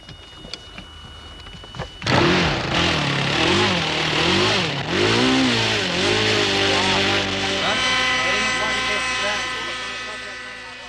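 A model aeroplane engine flying in Brazil: a sharp, buzzing whine bursts in loud after a quiet start. Its pitch swoops up and down as the plane turns and passes, then it holds at a steadier high drone.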